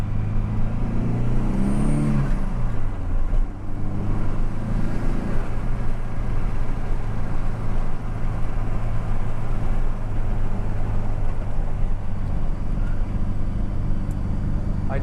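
A Volvo 240 fitted with a T5 engine and manual transmission swap drives along, giving a steady low engine drone with a brief rising whine near the start, close and continuous from inside the car with no talk.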